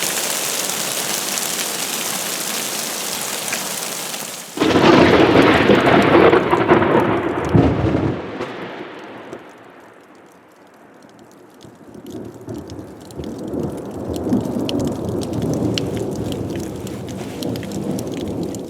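A short high desert thunderstorm: a loud crack and rumble of thunder amid steady rain and hail, easing into a quieter patter before building again toward the end; no voices.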